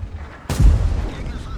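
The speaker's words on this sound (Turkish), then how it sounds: "Bir atış daha yapıyor." A single tank cannon shot from World of Tanks goes off loud and close with a sharp, booming blast, then rumbles and decays over about a second.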